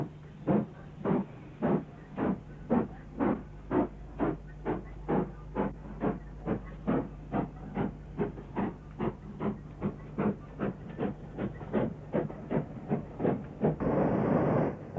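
A Great Western Hall class steam locomotive, number 6930, chuffs steadily nearby, a long run of regular, evenly spaced exhaust beats with hiss between them, ending in a louder burst of steam.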